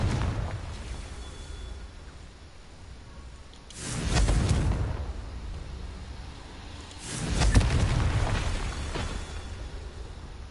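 Two loud booming blasts from a Confringo blasting curse in the Hogwarts Legacy video game, each a broad rumbling burst that swells and fades over a few seconds, with quieter game ambience between them.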